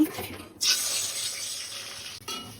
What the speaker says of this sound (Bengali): এখন হচ্ছে আমি পানি দিয়ে দিব